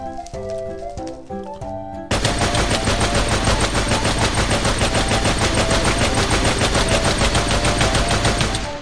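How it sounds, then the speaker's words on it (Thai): A Thompson submachine gun fires in Minecraft, a loud, dense stream of rapid shots that starts after a short musical opening and keeps going without pause. "เอาเอาทอมสันยิงมาแล้วกัน"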